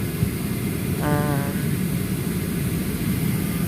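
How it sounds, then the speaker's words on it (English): Inside an airplane cabin at night: a steady, even broadband roar of the engines and airflow, constant throughout, with a brief faint tonal chime partway through. "I am currently like on the plane."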